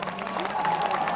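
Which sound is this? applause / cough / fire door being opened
applause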